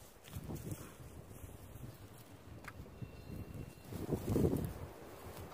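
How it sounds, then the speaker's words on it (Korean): Strong wind gusting outdoors on a hillside while wild mugwort is gathered, a broad rushing roar that swells and buffets the microphone, loudest near the end, with no voices. "바람 너무 많이 분다"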